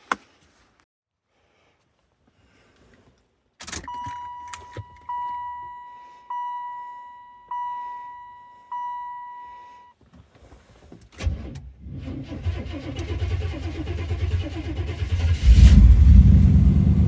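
A Buick Roadmaster estate wagon with a 5.7-litre 350 Chevy TBI engine, started after sitting all winter: a series of warning-chime beeps, then the engine cranks and catches, settling into a loud, close, rising idle.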